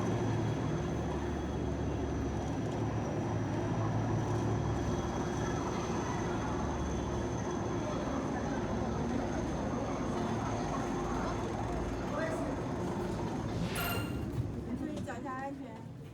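A Chinese passenger train at a railway station gives off a steady low rumble and hum throughout, with people talking over it nearby.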